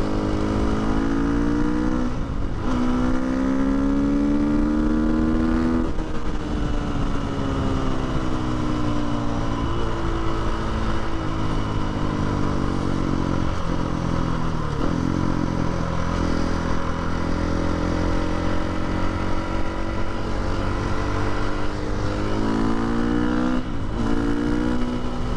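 A supermoto motorcycle rides through city traffic, its single-cylinder engine droning loudly and steadily up close, rising and falling in pitch as it accelerates and shifts, with no talking.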